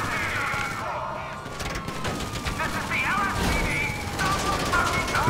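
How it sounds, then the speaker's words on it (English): Gunfire shooting out vehicle tires in GTA 5 Online, with scattered cracks and bursts mixed with engine and mechanical noise, a voice talking over parts of it. "I'll shoot out all your tires."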